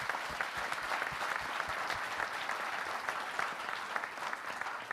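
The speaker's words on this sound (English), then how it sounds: "Thank you very much, and applause for them." A policy conference audience applauds, a steady, fairly faint wash of many hands clapping together without pause for several seconds.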